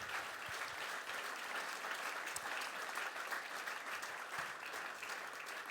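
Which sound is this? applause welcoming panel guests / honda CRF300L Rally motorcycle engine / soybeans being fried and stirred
applause welcoming panel guests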